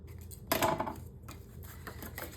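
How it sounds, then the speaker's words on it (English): Scissors snip through a paper piece for a Stamperia Songs of the Sea mini album treasure chest, giving one louder crisp cut near the start and then softer rustling trims, close up with no talking. "And cut this piece out."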